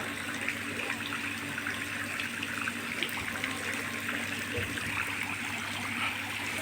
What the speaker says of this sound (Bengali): দেখতে পাচ্ছেন পানির ফোয়ারা কিভাবে পানি বের হচ্ছে।